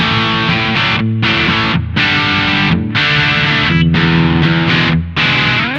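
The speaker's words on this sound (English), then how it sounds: "if I was just playing a single channel amp and I wanted a distortion sound, I'd use something like an OCD" An electric guitar played through a Fulltone OCD 1.7 distortion pedal, loud and saturated, with sustained crunchy chords broken by short gaps between strums, alone with no talk.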